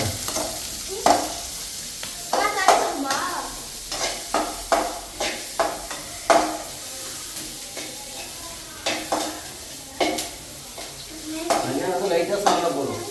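Meat dropped into frying onions, sizzling in the pan as a spatula stirs and scrapes against the metal in repeated sharp strokes, close and fairly loud, with brief pauses between bursts.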